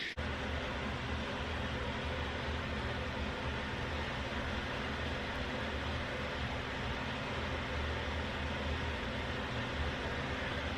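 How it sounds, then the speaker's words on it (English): Steady broadband hiss and low hum of a room air conditioner running in a home, constant and moderately faint throughout with no talking. "Sorry if you guys hear a lot of noise in the background, it's my AC."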